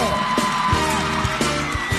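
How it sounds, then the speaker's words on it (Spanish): A studio audience on a televised talent-selection show cheers and whoops loudly, with yells and rhythmic thumps under a steady wash of crowd noise. "Fuerte el aplauso"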